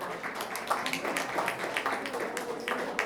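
Scattered audience clapping greets hula dancers entering at a senior and community center grand reopening, a modest patter of hands with talk running underneath.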